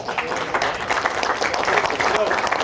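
Audience applause and cheering for the Best Painted award winners at a tabletop gaming event, a dense, steady wash of many hands clapping with voices mixed in throughout.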